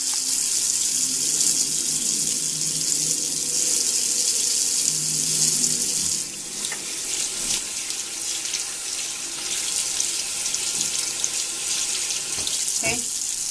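Tap water runs steadily into a sink while a flat makeup brush is wetted and washed, a continuous close splashing stream with brief bumps and clatters partway through.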